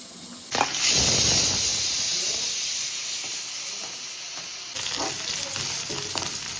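Sliced onions for chicken curry hit a hot pan with a loud, bright sizzle that flares up and then settles into a steady frying hiss, with stirring noise on top and no talk.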